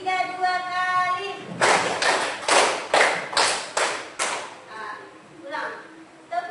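A classroom of students claps a group pattern in unison, loud, sharp bursts in quick succession, after a teacher's spoken cue, with voices returning briefly at the end.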